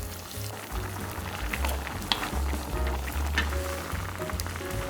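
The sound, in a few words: seasoning sauce bubbling as blanched squid is added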